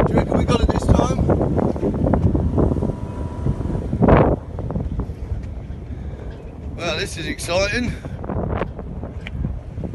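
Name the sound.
strong wind while hauling gaff cutter boat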